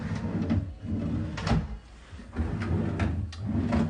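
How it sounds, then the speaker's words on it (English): A desk drawer on wheels rolls out of a student-room desk, a few rumbling slides and soft knocks close by, with faint room noise between them. "drawer also can be pulled out and moved as it's on wheels"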